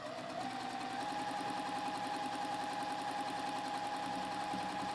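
A sewing machine runs steadily, stitching right over a basting stitch on a quilt block, with a fast even mechanical whir and rhythmic needle chatter throughout, no voices.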